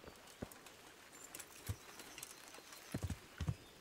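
Horse hooves in the medieval game Kingdom Come: Deliverance, a few faint, irregular clops on the ground, sparse at first and then clustering into quick pairs toward the end, quiet and alone.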